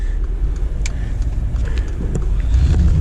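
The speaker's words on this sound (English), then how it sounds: "obviously louder exhaust sound" A loud, deep rumbling exhaust drones steadily from a Mercedes G63 AMG SUV in sport mode, growing slightly heavier toward the end.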